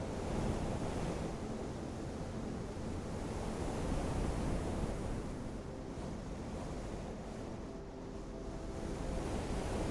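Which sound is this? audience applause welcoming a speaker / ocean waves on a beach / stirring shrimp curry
ocean waves on a beach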